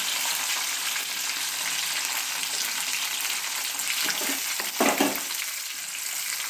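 Grated tomatoes fry with okra in a hot pan, a steady broad sizzle throughout with a brief louder stirring burst near the end.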